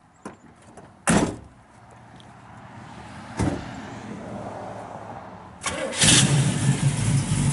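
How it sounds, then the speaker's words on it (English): A 1968 Chevrolet Camaro SS 350 with a four-speed has doors thumping shut, a few clunks, then its V8 cranking and firing into a rough, rumbling idle close by. "Fires right up."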